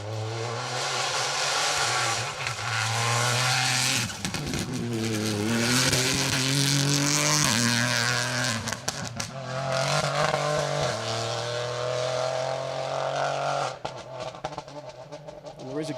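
Peugeot 208 rally cars with 3-cylinder anti-lag engines and sequential gearboxes roar past on an asphalt stage of Rally Ceredigion, loud and close with shifting revs and popping, while a commentator talks over them.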